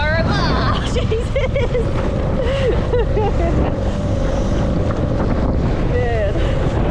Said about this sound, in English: It is incredibly windy right now.